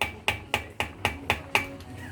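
A hammer strikes during a small household repair, seven quick, evenly spaced blows ringing out close and sharp.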